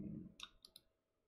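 A few quick mouse clicks, two or three sharp taps close together, recorded quietly with nothing else around them while working in World Creator software.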